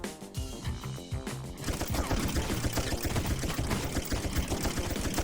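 Gunfire in the zombie survival video game Zombie Raid, a steady, dense stream of rapid automatic shots that starts after a brief lead-in and keeps going loud and continuous to the end.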